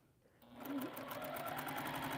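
A sewing machine starts up and runs steadily, stitching quilt pieces at close range with a rapid, even mechanical whir and no talking.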